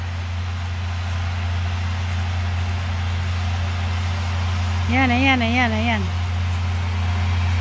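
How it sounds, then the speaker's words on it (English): A John Deere tractor baling hay at a farm keeps up a steady low idling drone through the whole stretch, while a voice speaks briefly over it near the end. "So it's a cool tractor, it's John Deere, I think."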